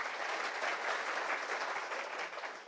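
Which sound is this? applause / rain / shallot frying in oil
applause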